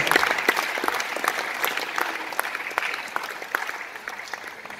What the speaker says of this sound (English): I think they deserve a bigger round of applause.